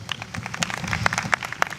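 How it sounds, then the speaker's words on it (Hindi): Church audience applause at a gathering, a steady wash of many hands clapping, fairly close and continuous with sharp individual claps standing out. "इनके लिए ताली बजाओ।"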